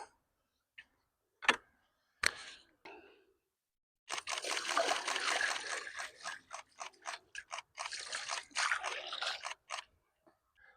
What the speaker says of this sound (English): So we made sure the fish covered with water. 3 buckets over it.